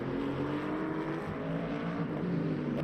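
Loud, steady GT3 race-car engines drone through a video-game lap of the Circuit de la Sarthe in Le Mans Ultimate. The tone holds constant with slight pitch shifts, one BMW bumping over a curb, and no talking.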